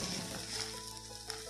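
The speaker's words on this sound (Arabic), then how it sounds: "بقلب الرز كده تقلبتين" Rice turned over in a hot pan on the stove sizzles and crackles steadily, close and fairly quiet, with faint scraping as it is stirred.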